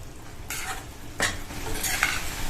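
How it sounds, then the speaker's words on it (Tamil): Coconut milk is stirred into a simmering side dish for chapathi. A spoon scrapes and knocks against the pan a few times over a soft, steady bubbling sizzle, and no one speaks. "தேங்காய் பால் சேர்த்துட்டு நல்லா ஒரு தடவை கலந்து விட்டுருங்க."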